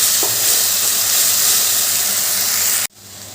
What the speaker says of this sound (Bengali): এই পেঁয়াজ টমেটোর পেস্টের সঙ্গে আদা বাঁধাটাও ভালো করে মিশিয়ে দিচ্ছি মশলাটা ভালো করে কষিয়ে নিতে হবে